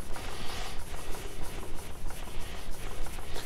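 Steady scraping grind of a hollow-ground knife blade being thinned toward a flat grind, a continuous abrasive rasp with rhythmic strokes, close and fairly loud with no talking.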